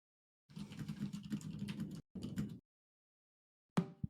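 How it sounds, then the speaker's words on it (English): Fast clattering keystrokes on a computer keyboard, nearby and fairly quiet, in two runs broken by a short gap and then a long silence, followed by a single sharp click. "I'm just typing."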